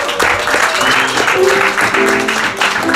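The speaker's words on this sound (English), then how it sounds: "Give her a round of applause." An audience at a comedy show in Washington, DC claps steadily and fairly loudly for a speaker being introduced, a dense patter of hands with voices mixed in throughout.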